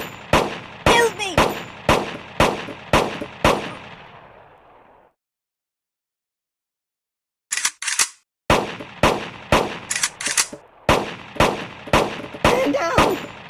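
Rapid bursts of gunfire from an iPhone shooting range game ring out in steady repeated shots, stopping for a few seconds of silence before the volley resumes, loud and close.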